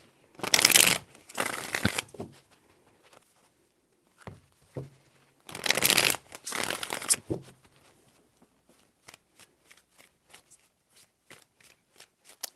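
A deck of tarot cards is riffled and shuffled at close range in two bursts, each a pair of quick rippling shuffles, followed by scattered light taps and card clicks.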